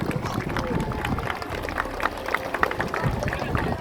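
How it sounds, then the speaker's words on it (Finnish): A crowd applauds at a live performance in Iisalmi, dense continuous clapping mixed with cheering and voices, fairly loud and steady throughout. "Annetaan raikuvat aplodit, se onnistuu!"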